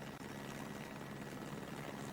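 A helicopter flies over east London near the Essex-Kent border, giving a steady, continuous rotor and engine roar with no pause and no voices.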